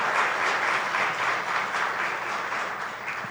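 A church congregation claps together in sustained, dense applause, a steady wash of many hands that stays loud throughout and fades only slightly toward the end, without voices.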